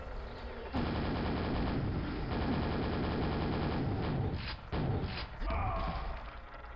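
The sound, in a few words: weapon fire in the video game Quake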